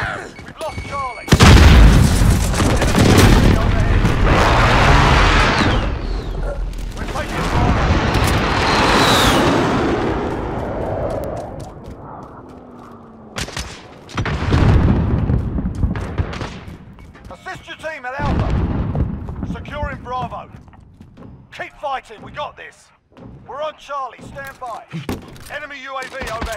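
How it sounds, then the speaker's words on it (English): Precision airstrike in Call of Duty: Modern Warfare Domination on Hackney Yard: loud booming explosions and rumbling blasts roll through the first half, followed by scattered gunshots and radio-style voice callouts. "Precision airstrike, take cover."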